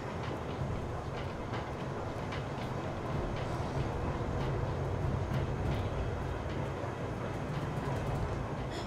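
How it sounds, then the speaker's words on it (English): A train rumbles steadily in the Secret World Legends video game, a dense continuous roar with faint rhythmic clicks of wheels on rails, loud and close throughout with no voices. "I'm climbing along the side of the train"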